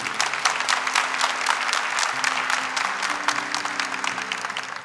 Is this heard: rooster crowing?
no